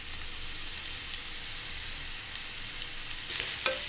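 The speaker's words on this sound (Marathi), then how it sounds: "छान तेलात परतून घेऊया।" A ground green chili, garlic and ginger paste sizzles in hot oil in a pan over onions, a steady close frying hiss with small crackles and a louder stirring burst near the end, no talking.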